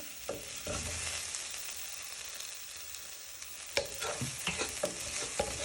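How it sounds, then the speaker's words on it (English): Onions, peppers and chili powder being stirred in a hot pan, with a steady sizzle of frying underneath and several sharper scrapes and clinks of the utensil against the pan toward the end. "you want to give that a good stir in"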